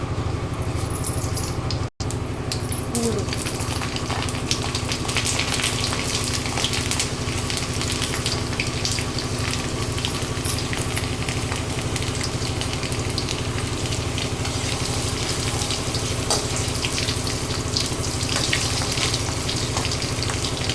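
Fenugreek seeds fry in sesame oil in a kadai, a steady, dense sizzle with a faint tone running through it, continuous for about twenty seconds after one brief sharp click near the start.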